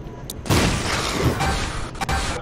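A bomb blows up in The Binding of Isaac, a sudden burst that starts about halfway in and leaves a broad, crackling roar that fades slowly, with a few sharp clicks and other game sounds mixed in.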